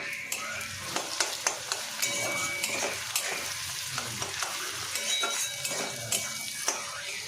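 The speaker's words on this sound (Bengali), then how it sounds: "পেঁয়াজগুলো বেশ লাল লাল করে আমি ভেজে নেব" Onions sizzle and crackle steadily in hot oil, browning into crisp fried onion for a chicken dish, while a spoon scrapes and stirs the pan at intervals. Close, continuous frying noise with no voices.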